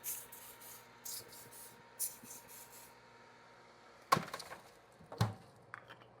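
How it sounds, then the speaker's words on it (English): Several short hissing bursts of oil spray onto chicken for air frying in quick succession, followed by a couple of sharp knocks and clatters, fairly quiet overall. "now I'm going to spray them again with a little bit of oil to get crispy"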